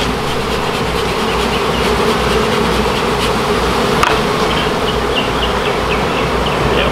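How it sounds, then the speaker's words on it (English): A dense swarm of honey bees from a hive in a trash pile hums steadily and loudly, a continuous close buzz with no talking. "Now, it does have a lot of bees on it."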